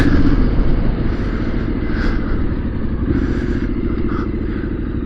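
A Triumph SS 900 motorcycle on the move, a loud, steady low engine rumble with wind roar and faint clatter, continuous and close, with no speech.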